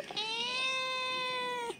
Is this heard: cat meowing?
yes